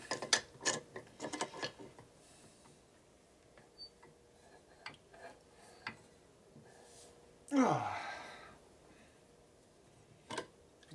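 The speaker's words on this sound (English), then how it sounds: "Now this clamp should not have enough balls to do anything with this, but we'll try it." A clamp is ratcheted tight on junk Harley panhead engine parts in a shop, giving a run of close clicks and knocks, then a single louder grinding squeal of strain midway, with scattered taps after.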